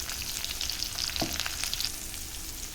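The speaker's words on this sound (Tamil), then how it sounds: "வெங்காயம் போட்டு கிண்டி விட்டுக்கலாம் கொஞ்சமாக பெருங்காயம் போட்டுக்கலாம்" Onions and asafoetida frying and being stirred in a pan: a steady, close hiss of frying with a brief scrape of the spoon midway, no voices.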